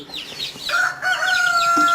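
Light Brahma hens and their newly hatched chicks cluck and call in a coop, with bright high chick peeps layered over a sustained, steady fowl call.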